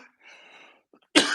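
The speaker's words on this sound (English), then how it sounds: "And all the coughing." Someone winded after a rowing workout gives a short, faint rasp, then a sudden loud, harsh cough that carries on as a breathy burst.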